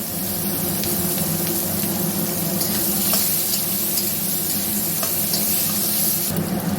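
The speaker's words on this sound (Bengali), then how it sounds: "এবার এতে আমি দিয়ে দেবো একটা গোটা পেঁয়াজ স্লাইস করা কাটা।" Sliced onion sizzles steadily in hot oil with dried chilli and five-spice seeds in a pan, a continuous close frying hiss with faint stirring clicks and no voices.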